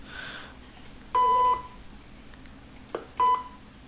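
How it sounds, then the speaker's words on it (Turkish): Two short, loud censor beeps added in Camtasia Studio 8 sound about two seconds apart, each a steady tone lasting under half a second, over quiet background. "bip sesini nereye kadar yapıyoruz?"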